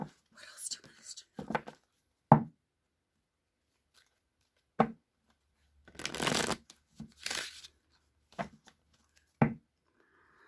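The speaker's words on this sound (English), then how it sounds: "one more shuffle for this one" Tarot cards being shuffled in several separate bursts of riffling and sliding, some short and sharp, others longer and papery, with quiet gaps between them and faint whispery sounds.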